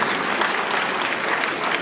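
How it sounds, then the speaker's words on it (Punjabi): Live concert audience applauding steadily and loudly, a dense wash of clapping from a crowd with no break. "ਤਾੜੀ ਮਾਰ ਦਿਓ ਇੱਕ ਵਾਰੀ"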